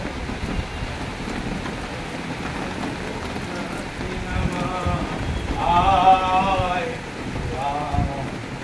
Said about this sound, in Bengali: প্রতিটা জায়গায় বৃষ্টি হচ্ছে আর তেমনি হাওয়া